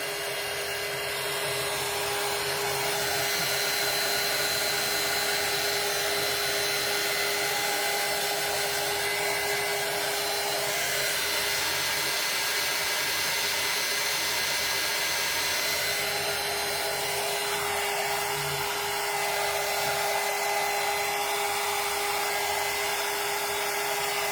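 A hair dryer blows steadily and loudly for the whole stretch, drying a head of hair in a salon setting, with a constant whirring airflow and no talk over it.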